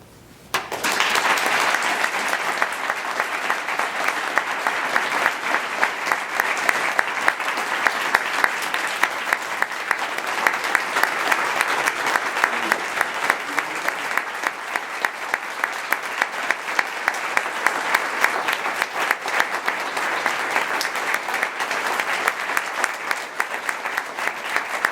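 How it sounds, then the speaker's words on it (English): Sustained audience applause at a final-lecture series at the Community College of Denver, a dense, steady roar of clapping lasting throughout without pause, loud and close. "Thank you for that warm applause."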